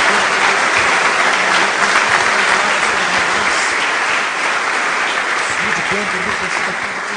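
A church congregation applauds during a Portuguese-language sermon, a dense, steady roar of many hands clapping at once that fills the whole stretch and tapers only slightly toward the end.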